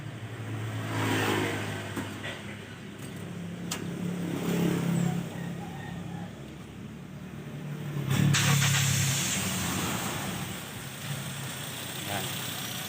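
Toyota Vios engine with a slight misfire, revved lightly in neutral during troubleshooting; a steady nearby idle rises in brief revs, with people talking over the engine noise.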